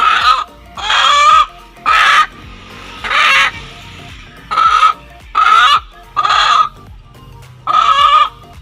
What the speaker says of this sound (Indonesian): Ini adalah ayam yang ingin digunakan untuk praktikum